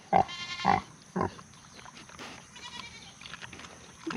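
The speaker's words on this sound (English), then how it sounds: "I guess the pigs don't like it either." Farm pigs in a summer garden give several loud, short grunting squeals close by in quick succession, then fall quieter over low background noise.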